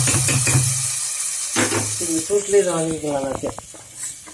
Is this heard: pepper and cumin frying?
yes